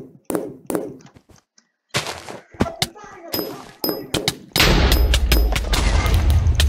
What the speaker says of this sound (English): I had a shooting battle with him.